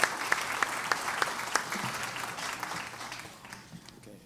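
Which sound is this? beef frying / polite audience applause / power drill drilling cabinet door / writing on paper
polite audience applause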